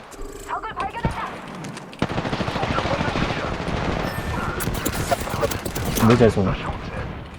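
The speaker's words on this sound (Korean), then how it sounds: "목표 발견. 오케이. 사격 개시." Rapid automatic gunfire in a video game erupts suddenly after a short pause and continues as a dense, loud, fast rattle for several seconds, with a voice speaking over the shooting.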